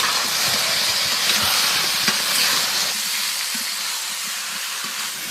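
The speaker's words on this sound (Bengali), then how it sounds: "আলু আর ঝিঙে দিয়ে দেবো।" Potato and ridge gourd hiss and sizzle steadily in hot oil in a pan, a continuous broadband frying noise with small crackles, fairly loud and close, with no talk.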